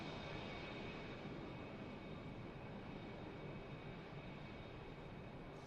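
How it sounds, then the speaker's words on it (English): An EasyJet Airbus A320 from Paris touches down at Manchester Airport, its engines a steady, broad roar that stays fairly constant throughout, heard from a distance with no talking. "And the EasyJet from Paris touches down nicely."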